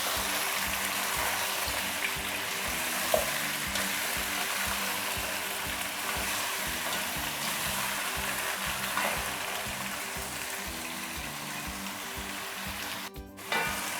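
Chicken for a masala pulao fries in a pan with a steady, close sizzle and occasional stirring scrapes, continuous throughout with a brief clatter near the end.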